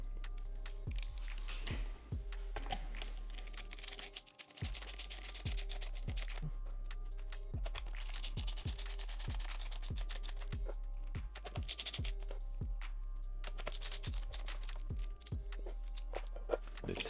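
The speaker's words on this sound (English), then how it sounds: "Start with the screws now." Small screws are backed out of the steering wheel of a 2024 Mustang GT during a carbon fiber wheel swap, giving a steady run of faint, close ticking and ratcheting clicks over a low constant hum.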